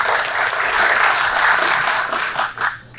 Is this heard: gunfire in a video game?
no